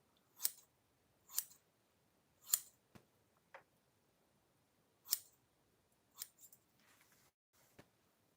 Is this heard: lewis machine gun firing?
no